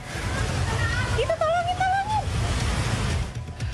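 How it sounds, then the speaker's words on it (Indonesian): Floodwater rushes along a road in Cimahi after a short, heavy rain, a steady broadband roar of fast water close by, with a brief rising tonal sound partway through. "banjir yang menerjang Cimahi membuat jalan raya dialiri arus deras"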